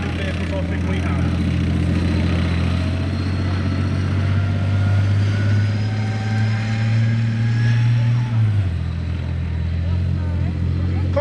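A British Army armoured vehicle's heavy engine runs steadily and loud throughout, with a deep low rumble that rises in pitch near the end before dropping back, amid outdoor crowd noise at a tank demonstration event.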